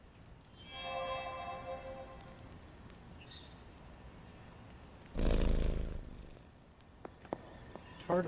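A cat purring in the video game Marvel's Midnight Suns, a soft low rumble heard near and steady, interrupted by a brief louder burst and a few faint clicks.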